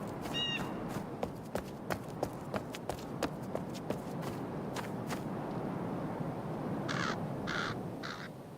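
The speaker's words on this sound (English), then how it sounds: "I love how there's crow sound, but you can't see the crow." Crow caws in a video game: a series of rough, evenly spaced calls repeat in the foreground over a steady ambient bed, then a few brighter, longer calls come near the end.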